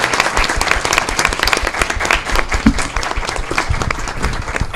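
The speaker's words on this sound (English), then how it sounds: "Let's give a big round of applause" An audience at a panel discussion breaks into sustained, dense applause that continues steadily throughout and fills the room evenly.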